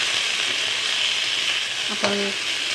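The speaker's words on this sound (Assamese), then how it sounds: "সৰু সৰুকৈ কাটি লোৱা পনীৰখিনি মই অকণমান ৰঙচুৱা কৰি মই ভাজি ল'ম" Constant sizzle of small paneer pieces frying in oil, with a brief metallic scrape of a utensil near the end.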